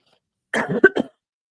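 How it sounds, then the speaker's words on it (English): A person gives a quick burst of two or three harsh coughs, close and loud, after a moment of silence. "I'm about to have a coughing fit."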